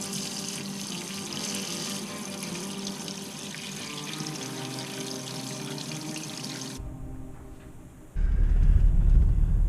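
Water runs steadily from a newly installed Kohler Mistos kitchen faucet into the sink, a continuous close hiss that shifts in tone near the end and then turns louder and fuller.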